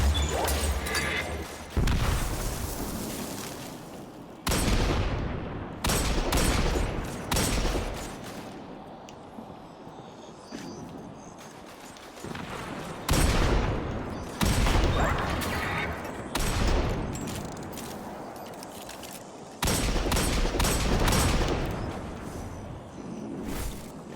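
Gunfire and explosions in a first-person shooter game set on Neomuna, with loud bursts of shots and blasts in clusters separated by short quieter gaps, close and heavy throughout.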